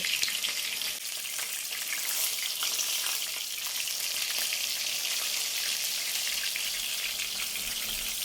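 Chicken fries in hot oil with a dense, continuous crackling sizzle that stays loud and even throughout, close by with no voices.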